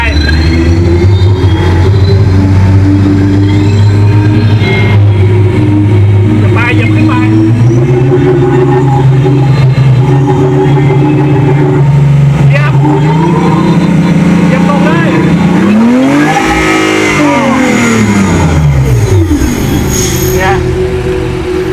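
A synthetic car-engine hum from an EV's external speaker rises and swells steadily as the accelerator is pressed, with a pitch sweep up and back down near the end, loud and continuous throughout.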